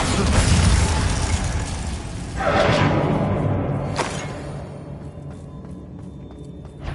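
Bombarda blasting spell exploding during Hogwarts Legacy combat: a loud rumbling burst with a whooshing blast around the middle and a sharp crack after, then fading into quieter game ambience.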